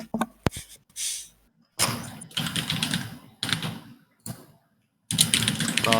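Bursts of typing on a HyperX computer keyboard, with clustered clicky keystrokes separated by short silent pauses, close and fairly loud.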